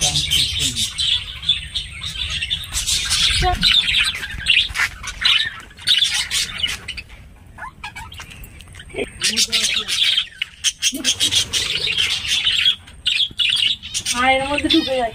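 Birds chirp, tweet and squawk at a park picnic spot where peacocks are kept, with loud calls close by and continuous overlapping chatter from people nearby.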